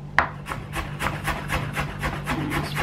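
A knife slices water chestnuts into small pieces in quick, even strokes, about a dozen close, crisp cuts tapping against a cutting board. No speech is heard.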